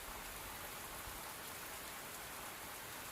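Steady rain falls evenly throughout, a soft continuous hiss of drops on surfaces with no breaks and no voices.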